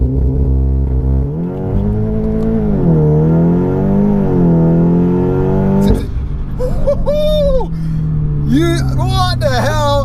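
A 406 bhp stripped-out Audi S3 saloon engine revs and accelerates hard from a standstill in a 0 to 60 run, its pitch climbing through rising gears, with people talking over it.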